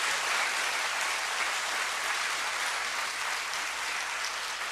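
Continuous applause from a church congregation at a gospel festival, an even, dense patter of many hands clapping for nearly five seconds without talk.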